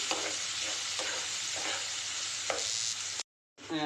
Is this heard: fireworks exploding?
no